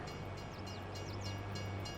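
Train passing through a Farming Simulator 22 game world: a steady low rumble of rolling rail cars with a droning low hum, and brief chirping tones above, continuous at moderate level with no talking.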